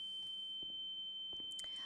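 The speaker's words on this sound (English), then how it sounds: "I do not like that ringing in my ears." A tinnitus-style ear-ringing effect in the video game The Town of Light: a thin, steady high-pitched tone holding without a break, faint under quiet game ambience with a few soft knocks.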